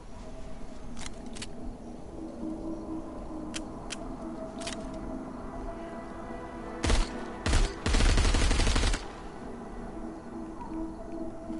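In the VR game Arizona Sunshine 2, a few sharp gunshots crack out over a constant low background hum, with scattered clicks before them and a dense burst of shots near the end.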